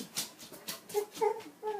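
Dogs whimper and give small yips, a few high, brief cries in quick succession close by, with faint background noise.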